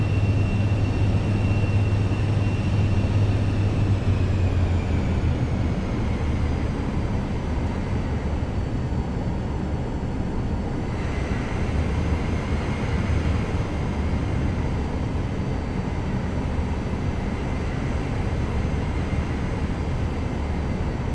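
A Cirrus Vision Jet taxiing in Microsoft Flight Simulator 2024 produces a constant, loud turbine whine and rumble that holds steady throughout, with a slight shift in tone partway through and no voices.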